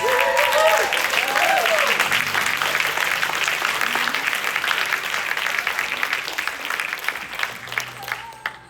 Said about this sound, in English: stand up and let's give everyone a round of applause